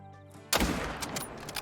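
A single loud rifle shot fired at a whitetail buck from about 400 yards in the hunting video game Call of the Wild cracks sharply after a quiet moment, then rolls out into a long, booming echo.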